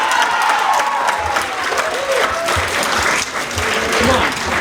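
Crowd at a school Move Up Day ceremony clapping and cheering, a loud, dense wash of applause with scattered whoops and shouts running throughout.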